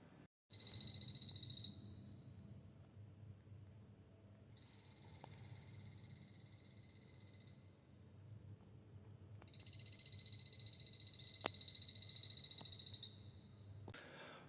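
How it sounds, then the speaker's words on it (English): Poison arrow frog in a terrarium in a botanical garden, giving three long, high, buzzing trilled calls of a couple of seconds each, with pauses between, over a low steady hum. "that frog is living there within a terrarium"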